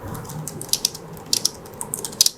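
Mechanical keyboard keys clacking in quick irregular bursts, crisp and close, with short pauses between runs of typing.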